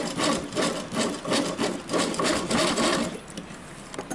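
A sewing machine sews a small zigzag stitch on swimsuit fabric, giving close, rhythmic pulsing bursts of mechanical whirring that ease off near the end, with no talk.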